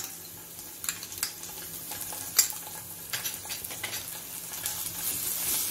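Ginger and garlic sizzle with onions in a pan while a utensil stirs, bringing scattered scraping clicks over a soft, steady frying hiss that grows slightly louder toward the end.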